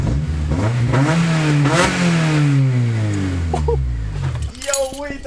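Manual Honda car with its muffler deleted, the engine revving up and easing back down in a rising and falling drone, with people talking over it.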